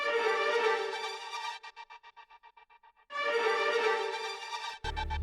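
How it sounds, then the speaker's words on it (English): A bright synth sample plays, then its echoes repeat in a rapid stuttering trail that fades, before the sample returns loud with a sharp cut at the end. "it just like gives it those like delay throws things"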